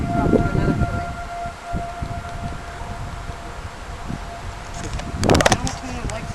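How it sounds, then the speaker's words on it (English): A tornado siren wails in the distance during severe weather, a faint steady tone held under gusting wind and outdoor rustle, with a brief louder burst of nearby noise near the end. "As you can see, you can hear the siren going off."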